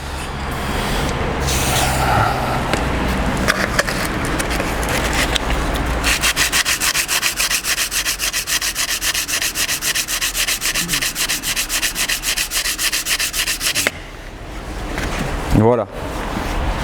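Car engine's oil filter support on a GTI being scrubbed clean, a continuous close, loud rasping rub that turns into fast rhythmic back-and-forth strokes, then stops abruptly with a brief clunk.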